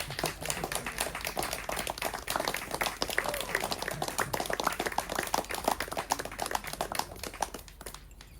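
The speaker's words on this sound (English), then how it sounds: "Bob and Lee, you may now kiss until the crowd stops clapping." Wedding guests clap together in a steady, fairly loud burst of hand claps that carries on for several seconds before thinning out toward the end, with faint voices underneath.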